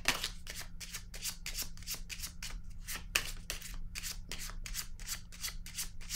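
Tarot cards being shuffled and handled, a steady run of crisp riffling bursts repeating about every half second, close and fairly quiet over a low background hum.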